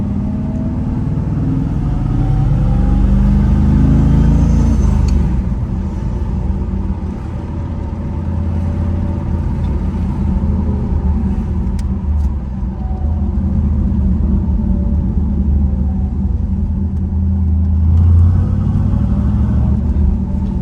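Deep, throaty engine rumble from a 1979 Pontiac Trans Am 301 V8 with a new Magnaflow exhaust, steady idle with a brief rev swell, loud and close with no talking.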